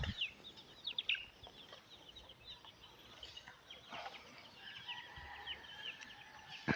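Chickens cluck on a rural farm, faint and somewhat distant, with scattered short calls and chirps over quiet outdoor ambience.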